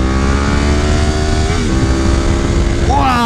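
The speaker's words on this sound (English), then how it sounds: "Wow, the sound. It's got a Graves exhaust on it." A Yamaha R1M superbike of about 189 horsepower, fitted with a Graves 3/4 exhaust system, runs loud and close, its steady engine drone dipping in pitch midway before revving up sharply at the end.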